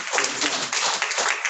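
Audience at a real estate conference clapping, a brief dense burst of applause from a crowd, fairly close and steady for about a second and a half.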